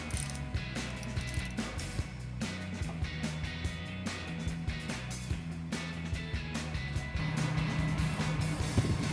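A ratchet with a 21 mm socket on a medium extension clicks in quick repeated bursts, loosening a tight rear bumper bolt on a 1999–2006 Chevrolet Silverado 1500, with steady mechanical clatter alone and no talk.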